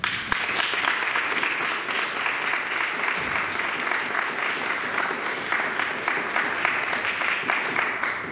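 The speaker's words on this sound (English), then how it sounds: "round of applause for our next soloist, Tyrone Dukes." Audience at a university concert choir performance gives a sustained round of applause, dense steady clapping throughout, filling the hall without pause.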